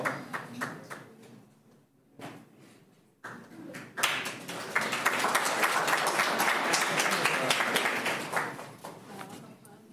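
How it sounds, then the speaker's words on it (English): Applause for a raffle winner at an awards event, starting as scattered claps under a voice and swelling into sustained, dense clapping from a fairly large audience. "Let's give him a round of applause."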